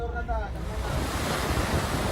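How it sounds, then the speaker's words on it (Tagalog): Large waves driven by strong seas off the coast of Bohol surge and crash in a loud, continuous rushing wash mixed with heavy wind buffeting the microphone. "Naglalakihang mga alon din ang humampas sa baybayin ng ilang bayan sa Bohol"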